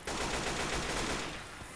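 Rapid automatic gunfire in the zombie shooter game Left 4 Dead 2 makes a dense, loud burst of quick shots lasting just under two seconds.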